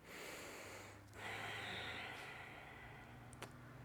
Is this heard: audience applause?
no